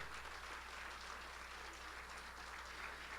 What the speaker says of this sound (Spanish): Si ese aplauso es para el Señor, aleluya, déselo para Él